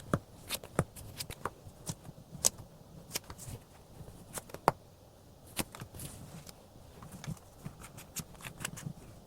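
Tarot cards being shuffled and drawn at a reading, giving a steady run of soft, close riffles, flicks and taps across the whole stretch, quiet and with no talking.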